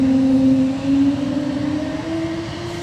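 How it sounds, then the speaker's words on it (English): An Airbus A220-300 with geared turbofan engines gives off a loud, steady, whale-like tonal hum at an airport, two sustained pitches slowly gliding upward and holding strong, with no talking. "I'm nicknaming it Shamu because of the whale calls that the geared turbofan engines make."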